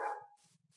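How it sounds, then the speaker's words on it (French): A single dog bark rings out, loud and close, followed by a few soft low thumps in an otherwise quiet room. "Désolé si vous entendez mon chien aboyer."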